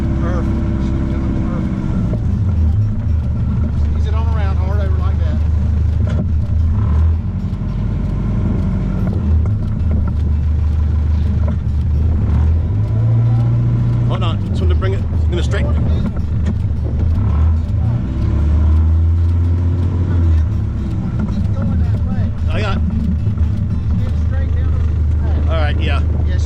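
A boat's engine running in gear at low throttle gives a steady, close low drone with slight shifts in pitch, and voices come in at times over it.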